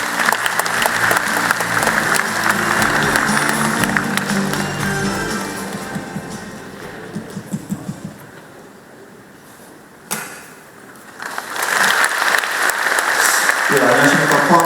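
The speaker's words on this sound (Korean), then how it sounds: "박수로 맞이해 주십시오." Audience applause at a Pohang city civic briefing on battery and hydrogen fuel cell industry plans, welcoming the city's jobs and economy director to the stage: loud, dense clapping that thins midway, briefly dips near silence, then swells again.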